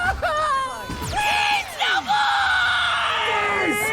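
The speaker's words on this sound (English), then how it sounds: "whining and screaming in terror a lot" An anime character from Dragon Goes House Hunting screams in terror: a high, shrill voice wailing with sweeping pitch, loud and sustained for several seconds, with brief gaps between the cries.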